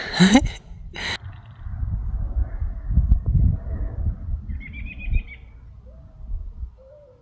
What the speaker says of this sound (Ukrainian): Так люблю спів пташиний.